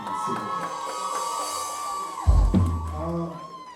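A concert crowd cheers and whoops for a Haitian music performer, with a sustained wash of voices and a louder swell of shouting near the middle before easing back.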